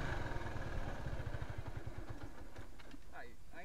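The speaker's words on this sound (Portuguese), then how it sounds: "Segura a embreagem e bate o pezinho forte, que ela vai ligar." A stalled Honda Titan motorcycle being kick-started, its engine chugging in a fast low thump that sputters and fades, with people talking over it toward the end.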